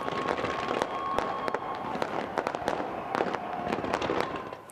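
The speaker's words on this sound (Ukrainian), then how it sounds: "Потім розпочався розкішний феєрверк." New Year's Eve fireworks crackle and pop in rapid bursts, with sharp bangs scattered over a continuous rumbling background, loud and fairly close.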